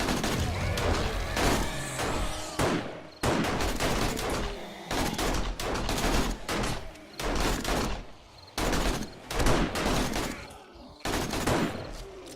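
Repeated bursts of gunfire and blasts during a zombie horde night in 7 Days to Die, loud and close, coming in rapid clusters separated by brief pauses.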